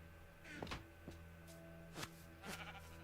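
Sheep in the video game Minecraft bleat several times in quick succession, short wavering baas of moderate loudness over a faint steady background hum.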